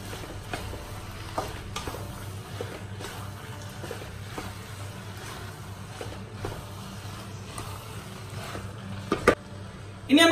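Koottu curry with pepper is stirred in a pan for an Onam sadhya. The stirring gives faint, irregular scrapes and a low sizzle, ending in a couple of louder knocks.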